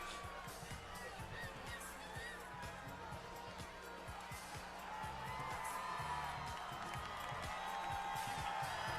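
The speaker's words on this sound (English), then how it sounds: "The crowd seems to be getting into it." A bodybuilding competition crowd at the Olympia cheers and whoops throughout, a dense continuous roar of voices with scattered claps, loud and steady with a commentator talking over it.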